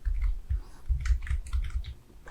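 Several quick key presses on a computer keyboard, including the Tab key, tapping out close and crisp in an irregular rhythm with no talk.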